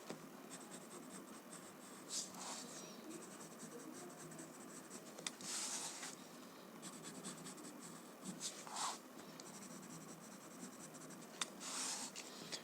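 Graphite pencil shading on paper, soft scratchy strokes coming in repeated bursts every few seconds, quiet and close, with faint rubbing between strokes and no voices.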